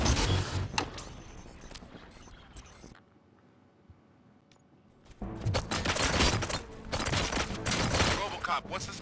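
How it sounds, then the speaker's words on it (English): Gunfire rattles in the RoboCop: Rogue City video game, dense bursts of shots and impacts at the start, then a quiet gap, then heavier sustained volleys that return louder, with game voices mixed in. "Gunshots? What's going on?"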